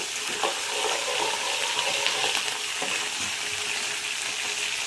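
Curry leaves and green chillies sizzle in hot oil in a pan for dal rice, with a steady crackling fry and a few stirring scrapes, close and moderately loud.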